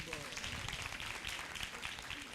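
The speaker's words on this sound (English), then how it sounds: "Please give a big round of applause for Bhakti Priya Mataji." A round of applause at a birthday celebration for a devotee, a faint, steady patter of clapping hands running throughout, with voices murmuring underneath.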